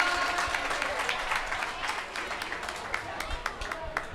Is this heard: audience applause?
yes